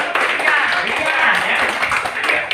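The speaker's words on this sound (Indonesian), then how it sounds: "Tepuk tangan dulu buat ini." Students clap together in a classroom, a short burst of dense, close clapping that lasts a couple of seconds.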